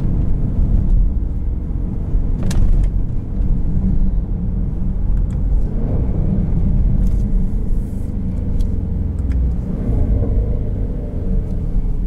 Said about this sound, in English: I don't know of another SUV that crackles nearly as much as this thing does